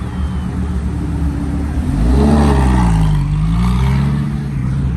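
A crazy loud Garado supercar with gap cams revs at a car meet, a deep rumbling engine that climbs in pitch, holds and falls back, close and powerful.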